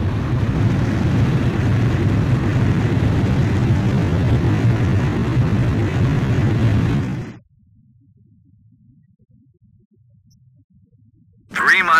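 A jet fighter's steady loud engine roar during a carrier landing in Ace Combat 5, droning for several seconds before cutting to near silence, then a sudden loud burst at the very end.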